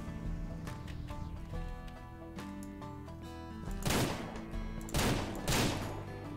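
Rapid gunshots crack repeatedly over a steady Ranch Simulator game soundtrack while shooting at a bear, with several loud bursts of fire toward the end.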